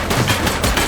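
Rapid automatic gunfire crackles in the police game The Precinct, a dense burst of shots lasting about a second, loud and close with no voices.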